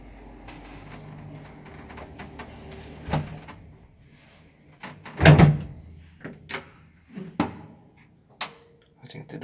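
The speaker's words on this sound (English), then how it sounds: "I think the doors are getting kind of unlocked." Door mechanism of a 1963 KONE traction elevator in a Lahti, Finland apartment building unlocking, with a series of close metallic clunks and clicks, one heavy thud midway and lighter knocks after it, over a quiet background hum.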